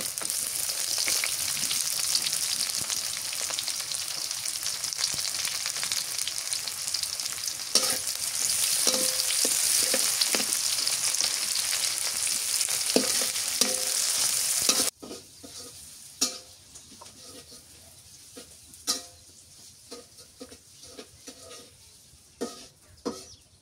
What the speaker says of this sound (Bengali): পেঁয়াজ কুচি দিয়ে দেই।